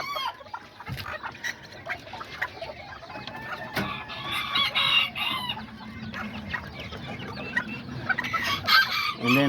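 Kikiriki Azteca bantam roosters and hens cluck and crow nearby, with a short crow rising over continuous clucking and scattered calls from a mixed flock.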